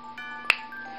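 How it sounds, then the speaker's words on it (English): A single crisp finger snap cracks out sharply in a quiet room, one brief close click against a faint steady hum. "now when I snap my fingers, you'll be back to normal"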